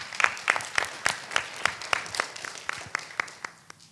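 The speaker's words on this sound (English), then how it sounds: "please also give them a round of applause" Applause at a gerophysics conference for the organizing team, with prominent individual claps ringing out in a fairly regular rhythm over a softer spread of clapping from a modest audience.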